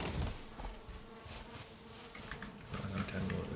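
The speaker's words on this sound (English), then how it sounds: "I hear bees already." Bees buzz in a survival video game, a droning insect hum that rises and falls over a muddy background of game sounds, fairly close and continuous for several seconds.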